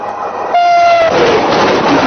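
A train rolls over a man lying flat on the tracks beneath it, a loud steady rumble with a sustained horn tone and clattering wheels close by.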